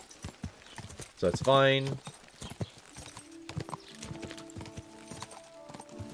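Horse hooves clip-clopping in the medieval video game Kingdom Come Deliverance 2, with a brief whinny early on, a steady hoofbeat rhythm, and someone talking over it.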